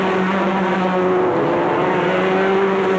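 Formula 3 race car at Silverstone in 1987, during an FIA F3 European Cup race, its engine a steady, loud, sustained drone with a slight pitch shift, heard alone.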